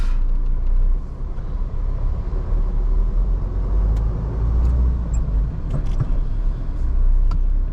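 A 2024 Force Gurkha SUV driving at night, heard from inside the cabin as a steady low engine and road rumble with a few faint clicks, continuous and fairly loud.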